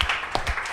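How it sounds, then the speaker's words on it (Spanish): A classroom group gives itself a short round of applause, a brief scattered patter of hand claps at moderate loudness that fades quickly. "So give yourselves a big hand."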